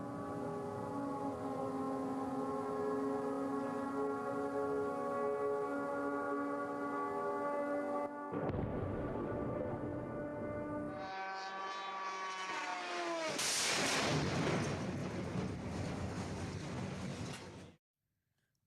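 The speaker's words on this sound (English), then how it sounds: "the emergency air raid sirens and drone explosions reverberating through the capital city of Kyiv" Air raid sirens wail in Kyiv with sustained rising and falling tones, broken by sharp, loud bursts of noise from drone explosions that reverberate through the city.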